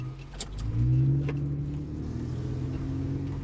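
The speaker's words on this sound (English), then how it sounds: "The motor sounds real solid." A Nissan G35 sedan engine idles with a steady low rumble, briefly revving louder near the start before settling into an even hum.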